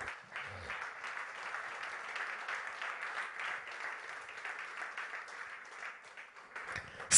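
A church congregation applauds steadily for several seconds, a dense, even wash of clapping heard at a moderate distance.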